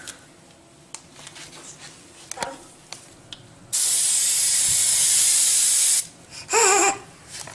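Compressed air blasting from an air hose in a shop, two loud sustained hissing bursts, the first about two seconds long and a shorter one after, following a few small clicks and taps.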